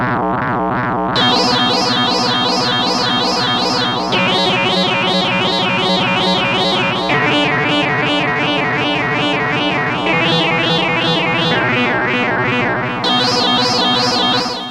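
An Arturia PolyBrute synthesizer plays an FM patch built on a sine wave, with loud sustained notes and a pulsing, cyclic wobble from a retriggered LFO, changing pitch every second or two without any voice.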